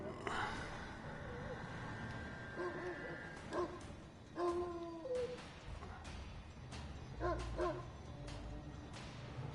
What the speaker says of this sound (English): That's an old dog if he sounds like that.